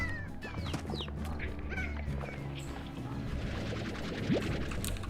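Chickens clucking in the Slime Rancher video game, a busy stream of repeated short clucks and squawks at moderate volume, continuous over a low game background.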